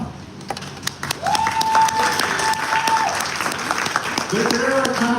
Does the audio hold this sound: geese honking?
no